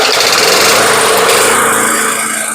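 Old Honda-powered Snapper walk-behind mower with a worn drive gear, engine running loud and steady close up with a high buzzing drone that eases slightly toward the end, no talking.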